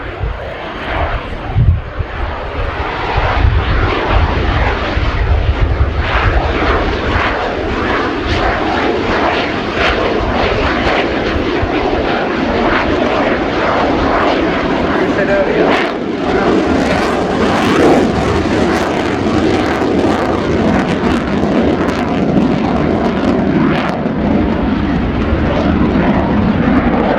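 Swiss Air Force F/A-18C Hornet flying a low, high-alpha pass at an air show display, a loud, continuous roaring jet engine sustained for the whole stretch, with power surging and easing as the throttle is modulated.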